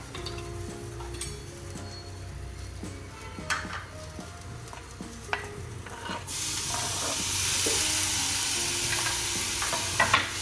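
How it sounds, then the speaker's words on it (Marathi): Chopped onion and tomato sauté in a pan for Pune-style misal pav, with a spatula clinking and scraping over a low sizzle that swells into a louder, steamy hiss partway through. "तर आपल्याला ह्या कांद्याला आणि टोमॅटोला छान असं परतून घ्यायचं आहे।"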